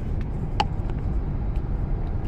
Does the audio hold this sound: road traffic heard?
yes